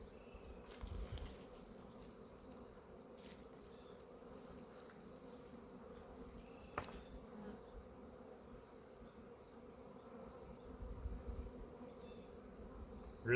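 Bees buzz steadily at an open hive during an inspection, a strong colony fed with a packed frame, as a faint continuous hum with a few soft handling knocks and no speech.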